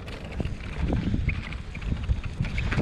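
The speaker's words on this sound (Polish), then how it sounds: "Wiatr się zerwał." Wind gusts across open fields on a ride out in the countryside, a rough, buffeting rush that swells and dips close to the microphone, with no voices.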